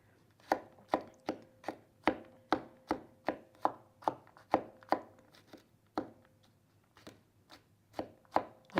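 A knife slices food on a poor-quality chopping board with a steady series of crisp, close thuds, roughly two per second with a short pause midway, over a quiet background hum.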